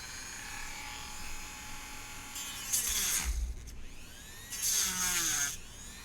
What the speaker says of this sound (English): That has to be one of the weakest corded Dremels I've ever seen.